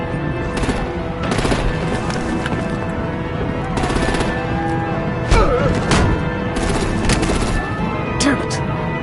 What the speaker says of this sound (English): Bring out the artillery and disable their vehicles!